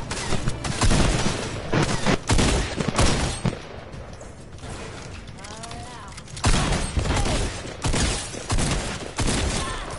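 SMG gunfire in the Fortnite video game comes as loud, dense rapid bursts separated by short gaps, with other game sounds and a bit of faint talk.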